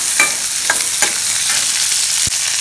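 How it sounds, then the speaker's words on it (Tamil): Whole onions sautéing in a pan for pirandai kuzhambu, a loud, close, continuous sizzle of hot oil with a few brief scraping stirs, no voices. "உங்களுக்கு எவ்வளோ தேவையோ அவ்வளோ வெங்காயம் போட்டுக்கோங்க. இதை நல்லா வதக்கிக்கலாம்."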